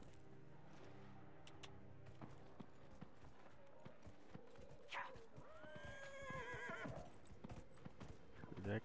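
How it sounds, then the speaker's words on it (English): A horse in Dragon Age: Inquisition clip-clops with steady hoofbeats, then gives a drawn-out neigh partway through, all at a soft, low level. "There's my horse."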